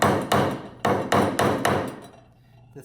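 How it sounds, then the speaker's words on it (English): A 1/2-inch wood chisel struck with a mallet while chopping mortises for a stool, six solid knocks in a steady rhythm, close and loud, then a quiet pause. "So this is a 1/2-inch chisel that I'm working with right at the moment."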